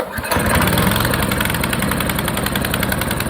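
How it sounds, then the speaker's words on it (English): A small pull-start engine with a new spark plug and the choke on catches after a pull and runs at a steady rough idle, a loud close putter with rapid regular firing pulses, no talking. "So turn the switch to on, your new plug is in, and put the choke on, and let's give it a pull."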